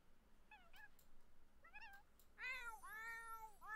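Cats meowing in the video game The Sims 4, several short separate meows spaced apart, then a louder run of overlapping meows near the end over a quiet background.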